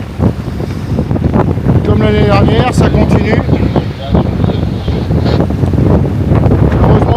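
Strong wind gusts over thirty knots buffet the microphone out at sea aboard a sailboat, a loud continuous roar with rushing bursts, while someone talks over it throughout.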